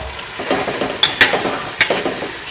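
A spoon stirs chocolate into melted sugar in a pan over low heat, giving close scraping and soft sizzling with several sharper clinks against the pan, with no talking.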